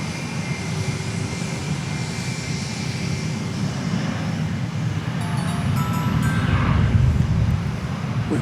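A jet airliner taking off on runway 36 right at DFW Airport, its engine roar building steadily into a loud, dense rumble with a thin whine on top.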